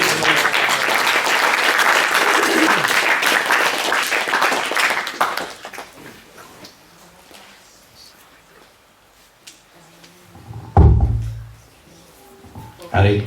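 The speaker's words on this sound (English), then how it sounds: "Please give me a big round of applause." An audience at a devotional anniversary celebration gives loud, sustained applause that fades after several seconds into scattered claps and faint room noise.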